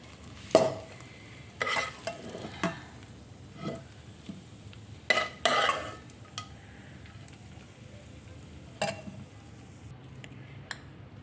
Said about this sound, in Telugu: మొత్తం ఒకసారి బాగా కలపాలి